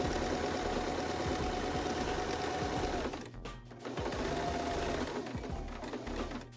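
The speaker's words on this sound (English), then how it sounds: "Put it right under your presser foot, right behind the other, not overlapping, but extremely close, and just start sewing." Sewing machine chain-stitching medical face masks back to back under the presser foot, a loud fast steady hum with a brief slowdown midway before resuming.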